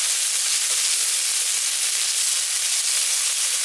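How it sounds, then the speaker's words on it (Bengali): Onion frying in oil for soybean korma gives a steady, close, bright sizzle and hiss with no voices over it. "এবার পেঁয়াজটা আমি লালচে করে ভেজে তুলে নিচ্ছি"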